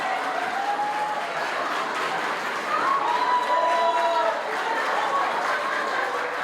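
An audience applauds a bowing bride and groom at a televised event, a dense spell of clapping and cheering that swells slightly midway, with a host's voice talking over it.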